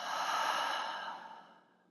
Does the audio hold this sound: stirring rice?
no